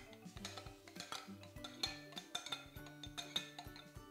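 Cake batter for a cherry cake being mixed in a bowl, giving steady, quick clinks and scrapes of a utensil against the bowl, quiet and rhythmic with no talking.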